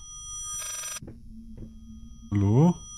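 In the horror video game Layers of Fear, a telephone gives one short electronic ring over a low ambient hum. A voice speaks briefly a moment later.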